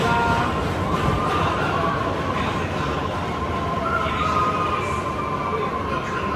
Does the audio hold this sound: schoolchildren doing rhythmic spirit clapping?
no